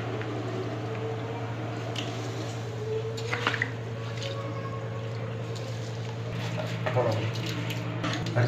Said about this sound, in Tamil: இப்போ அரிசி போட்டுக்கலாம்.